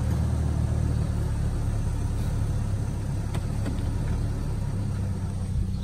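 An Infiniti QX56 engine running rough, close and steady, with a low continuous rumble and only slight shifts in tone.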